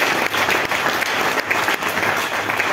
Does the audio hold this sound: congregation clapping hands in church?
yes